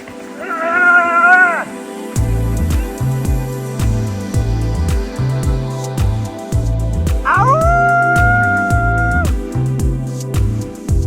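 A dog in the Iranian desert gives two drawn-out, wavering howls, the second rising and holding, over a steady low pulsing background thump that runs under the whole scene.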